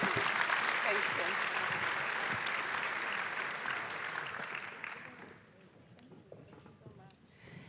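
Audience applause after a panel discussion on the food sector, a full clapping crowd that holds steady for about five seconds, then fades away into quieter room noise with scattered sounds and murmuring voices.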